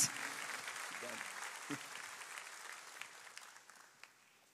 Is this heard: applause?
yes